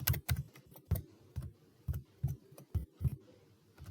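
Keys on a computer keyboard are tapped in a quick, uneven run of about a dozen close clicks, with no talking over them.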